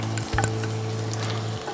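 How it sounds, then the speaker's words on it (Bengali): Chopped garlic sizzles steadily in butter and oil over lowered heat, a close, continuous frying hiss lasting under two seconds, with a faint steady hum running beneath it. "1 চামচ রসুন কুচি দিব প্রথমে।"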